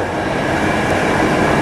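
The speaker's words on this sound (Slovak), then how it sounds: "Práve prechádzal osobný vlak, poschodový vlak typu" A double-decker push-pull passenger train rumbles past on a viaduct near Šenkvice and Trnava, a loud, steady roar of wheels and carriages filling the whole moment with no break.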